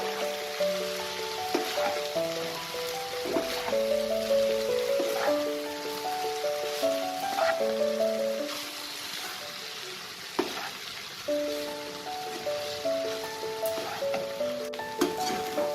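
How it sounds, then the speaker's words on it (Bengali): Egg hakka noodles sizzle in a hot pan while two spatulas toss and stir them, a steady frying crackle with scraping and clinks, under a light melodic background tune. "দুটো স্প্যাচুলার সাহায্যে এটাকে নাড়ালে সুবিধা হবে, খুব বেশি ঘেটে যাবে না আর মেশানোটাও খুব ভালো হবে। এটাকে আমি মিশিয়ে নেব।"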